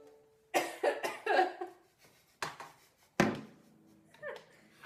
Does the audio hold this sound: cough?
yes